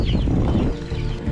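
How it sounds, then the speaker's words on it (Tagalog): Chickens cluck close by amid rustling and flapping noise, a busy continuous farmyard sound with no speech, in Puerto Princesa, Philippines. "May mga manok dito."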